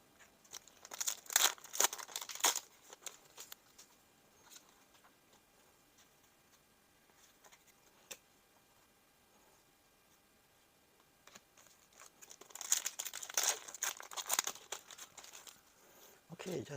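Build Divide Madoka Magica booster packs being torn open and handled, with crinkly foil wrapper rustling and tearing in two loud bursts at the start and near the end, separated by quieter ticking and clicking in between.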